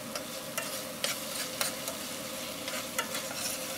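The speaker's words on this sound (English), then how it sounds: "Just also fry them a little bit." Garlic frying in a pan makes a steady close sizzle, punctuated by light scraping taps of a utensil stirring it, with no voices.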